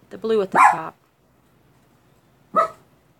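A dog named Oliver gives two quick, sharp barks close by, then a single bark after a silent pause.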